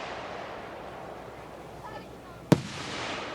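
Fireworks going off outdoors, a soft crackling fizz followed by one sharp, loud bang, set against a steady background hiss.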